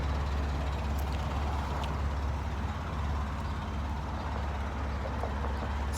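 2007 Polaris Ranger 700 XP 4WD utility vehicle idling, a steady low rumbling engine drone that stays even and close throughout with no speech.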